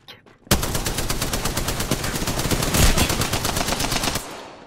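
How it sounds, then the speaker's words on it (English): Sustained automatic gunfire in Apex Legends, a rapid even burst of shots that starts abruptly and runs loud and close for nearly four seconds before cutting off. "Opening fire."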